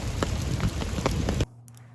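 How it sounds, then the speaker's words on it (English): Hail falling outside as a dense, loud, steady patter with sharper individual hits, cutting off abruptly near the end to a quiet low hum. "Literally hailing now."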